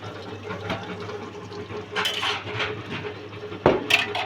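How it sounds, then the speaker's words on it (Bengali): Plates are set out on a table at Insaf Hotel, a restaurant in Chandipur bazar. Two sharp ceramic clatters stand out over a steady low room hum, with some softer dish movement around them. "এই যে প্লেট কিন্তু সাজানো শুরু করেছে"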